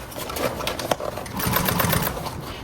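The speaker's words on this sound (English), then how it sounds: "we're going to top stitch all the way down." A sewing machine running steadily as it top stitches down the length of a large tote bag, a close, continuous mechanical whir with slight variations in speed for the whole stretch.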